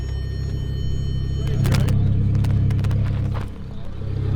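A Lamborghini Murcielago LP640 and a twin-turbo Huracan pass at high speed, heard as a loud, deep engine rumble that swells through the middle and then briefly drops away.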